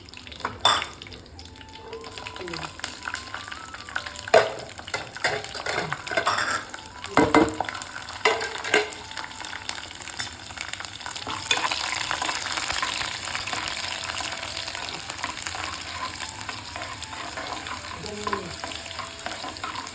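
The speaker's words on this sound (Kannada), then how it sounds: "ಇದು ಮೆಣಸಿಕಾಯಿ ಬೆಳ್ಳುಳ್ಳಿ ಸ್ವಲ್ಪ ಫ್ರೈ ಆಗಬೇಕು ಈಗ ಬೆಳ್ಳುಳ್ಳಿಯನ್ನು ಹಾಕುತ್ತಿದ್ದೇನೆ" Green chilies and garlic fry in a pan for homemade pickle, a continuous crackling sizzle with repeated scraping stirs and utensil knocks up close, growing denser in the second half, with no speech.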